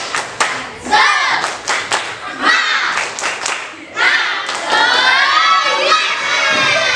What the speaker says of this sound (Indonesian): mari kita semuanya tepuk semangat.